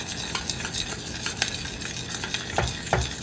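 A spoon stirring flour into corn chowder in a pot, with soft scraping strokes and a light simmering sizzle underneath, a few sharper clinks of utensil against the pot near the end, close and fairly quiet.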